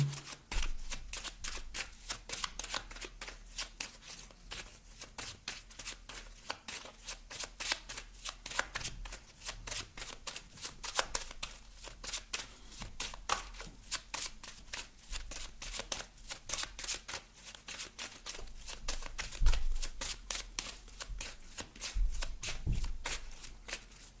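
A deck of oracle cards is shuffled close up over and over, with rapid riffling flutters and soft slaps that continue almost without a break for about twenty seconds and have no talking over them.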